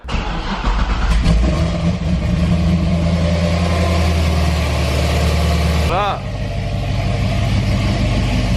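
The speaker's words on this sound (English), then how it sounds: "let's give you guys a little cold start. This thing's freaking loud." A lifted 2019 Ford Raptor pickup fires up from cold, its engine loud and booming up close, then settling into a heavy, steady idle for several seconds before a brief rev near the end.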